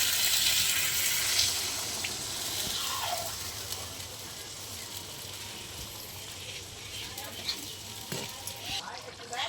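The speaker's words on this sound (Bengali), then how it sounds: "এই জল দিয়ে দিলাম" Water is poured into a pan of spiced potatoes and pointed gourd, a brief soft rush at first that settles into a faint, low sizzle and bubbling in a quiet kitchen.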